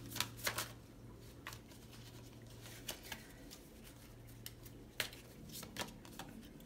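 Tarot cards are shuffled and handled as another card is drawn, giving quick papery flicks and snaps in uneven clusters. Each one is soft and close, with a faint background hum.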